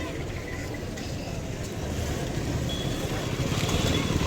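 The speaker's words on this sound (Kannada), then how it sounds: "ಇಲ್ಲೊಂದು ರಾಜಹಂಸ ಗಾಡಿ ಬರ್ತಾ ಇದೆ" A Rajahamsa bus pulls into the new bus stand at Huvina Hadagali, its low engine rumble steady and slowly growing louder over gusty wind noise, with no talk.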